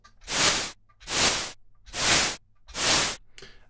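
Four evenly spaced swells of noise from an Empress Effects Zoia, shaped by an ADSR envelope, each rising, holding briefly and fading, like rhythmic breathy whooshes with short silences between.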